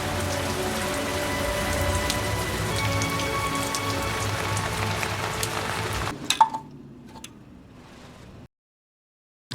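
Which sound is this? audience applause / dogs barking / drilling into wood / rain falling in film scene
rain falling in film scene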